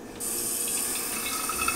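Tap water runs steadily into an empty lasagna sauce jar at a kitchen sink, a continuous close hiss and splash that begins abruptly and carries on alone without talk.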